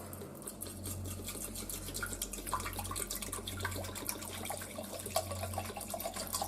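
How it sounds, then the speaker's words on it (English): Water trickles and splashes steadily as it is poured into a container for a homemade potion, fairly faint and continuous with no one speaking. "You would then put in some water."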